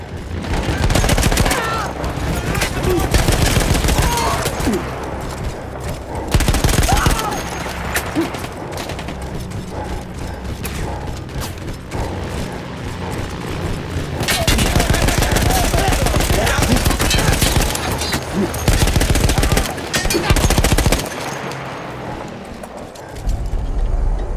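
Machine gun emplacement in the World War I shooter Battlefield 1, firing long loud rapid bursts broken by short pauses, with scattered distant gunfire and battle noise filling the gaps.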